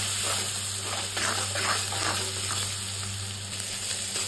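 Onion frying in a pan with turmeric and salt, a continuous close sizzle with occasional stirring scrapes, steady and fairly loud without speech.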